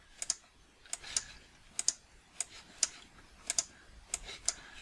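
Computer keyboard keys tapped in a quiet room, a dozen crisp clicks in short pairs and singles at an uneven pace, soft and close.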